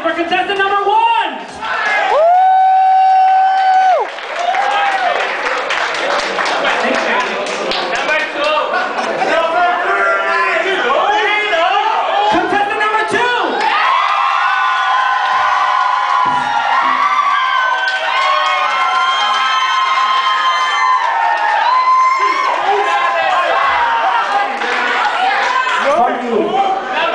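An audience at a contest loudly cheers, whoops and shouts for the first contestant, an excited, continuous crowd roar with individual yells rising over it throughout.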